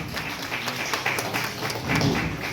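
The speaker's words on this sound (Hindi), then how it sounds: "गया करीमगंज के रहने वाले मोहम्मद इस्राफुल, जोरदार तालियों से स्वागत करेंगे।" Applause welcoming a selected candidate at an honouring ceremony, a soft, steady patter of clapping from a gathered audience, somewhat distant and low in level.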